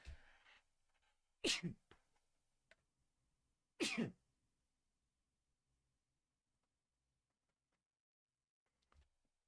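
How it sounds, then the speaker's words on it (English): Two loud sneezes burst out a couple of seconds apart, close up, with a small throat sound between them and quiet afterward. "I have to sneeze."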